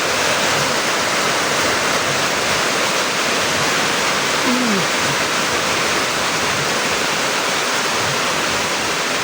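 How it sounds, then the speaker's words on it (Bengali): Heavy rain pours steadily outside, a dense continuous hiss that stays loud and even throughout with no talk over it. "বাইরে প্রচুর বৃষ্টি।"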